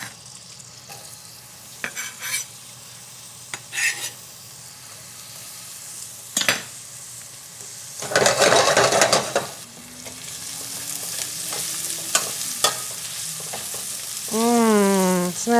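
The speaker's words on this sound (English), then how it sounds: "So I'm going to put a couple tablespoons of nice, beautiful olive oil. We're going to send in the shallots." Shallots going into a few tablespoons of olive oil in a pan for clam linguine, soft sizzling punctuated by sharp utensil clinks, a loud swell of frying midway, then steady hiss and a brief whining tone near the end.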